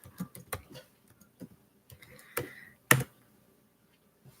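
A handful of quiet keystrokes on a computer keyboard, tapped in short irregular bursts with pauses between them and no talking.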